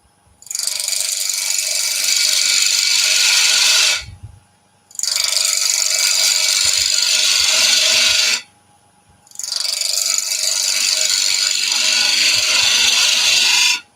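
A wood lathe turns a cabriole leg, the tool cutting in three long bursts of loud, close scraping hiss, each lasting several seconds and separated by brief pauses.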